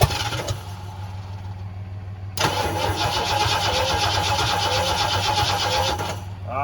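A Ford 429 V8 in a hot rod cranks briefly, then catches and roars into a loud, steady rough idle that runs for several seconds before dipping near the end, with no talking.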